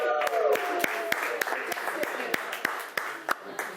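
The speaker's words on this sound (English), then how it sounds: "Everybody, round of applause." Audience at a get-together event clapping, with sharp individual claps standing out from a steady spread of hand claps over a few seconds, fairly near and moderately loud, with a voice briefly over it.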